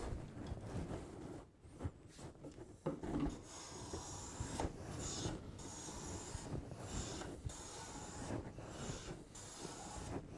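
A hand plane works a length of timber to remove sawn grain, giving repeated rasping, shaving strokes against wood with soft knocks between passes, close and moderately quiet, with no talking.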